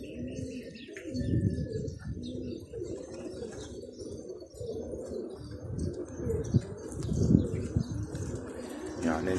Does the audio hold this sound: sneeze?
no